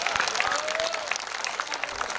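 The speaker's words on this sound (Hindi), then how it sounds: "एक बार जोरदार तालियां बजा" Brief burst of audience clapping at a Hindi comedy poetry gathering, lively applause with scattered crowd voices and exclamations mixed in.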